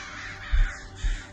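Crows caw twice in quick succession, harsh and fairly close, over a hushed background outdoors by a psychiatric house.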